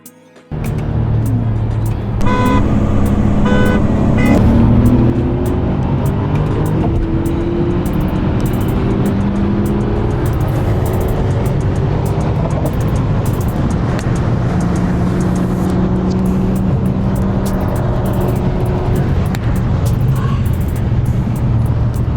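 A Skoda Octavia VRS drives with a steady, loud engine and road drone that swells early and then holds a sustained cruising note, with no talking over it.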